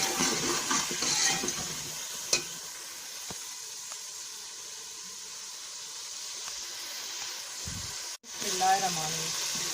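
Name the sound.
water added to frying masala for aloo salan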